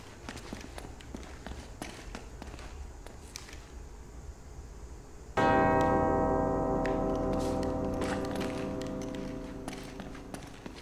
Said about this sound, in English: Running between the bells